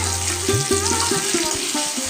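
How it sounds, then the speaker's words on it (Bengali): Fish fries in hot oil in a pan, a busy crackling sizzle with spatters, heard close alongside a few low knocks and clunks. "তো মাছটাকে এপিট ওপিট উল্টিয়ে খুব ভালোভাবে ভেজে নিতে হবে।"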